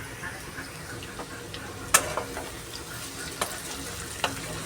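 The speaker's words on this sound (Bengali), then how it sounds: "শুকনো লঙ্কা ফোড়নে দিয়েছি" Dried red chillies fry in hot tempering oil, a soft steady sizzle with a few sharp crackles and pops standing out over the low kitchen hiss.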